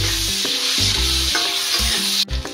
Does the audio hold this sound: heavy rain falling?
no